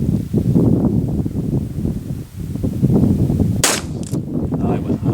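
A single sharp shot from a Ruger SP-101 revolver firing .38 Special in single action cracks outdoors partway through, over steady wind and rustling.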